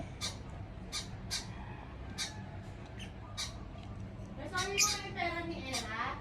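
Sharp, high-pitched squawks repeat in quick bursts from several pet lovebirds nearby, with a voice speaking briefly underneath toward the end.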